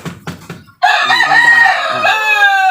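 A Talisay breed rooster with yellow legs crows once, loud and close, after a few short clucks. The crow is a long, strained call that lasts about two seconds, with no talk over it.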